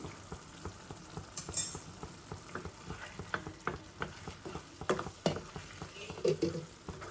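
Potato frying in a pan with ginger garlic paste just added, giving a soft, steady sizzle broken by rhythmic scrapes and taps of a spatula stirring, fairly quiet and without talk.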